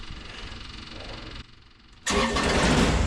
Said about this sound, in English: Let me get the tractor started here. This is my Kubota BX 2360 tractor.